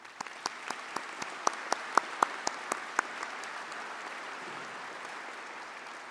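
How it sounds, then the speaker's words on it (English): Applause at a university convocation ceremony for the organizing committee and volunteers: a run of sharp, evenly spaced claps over steady hall ambience, fading out after about three seconds and leaving quiet room tone. "So please, a round of applause for everybody"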